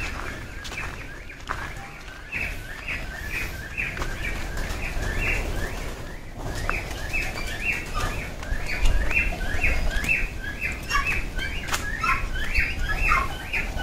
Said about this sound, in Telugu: చూస్తున్నారు కదా బర్డ్స్ చూడండి, పావురాలు కానీ రామచిలకలు కానీ.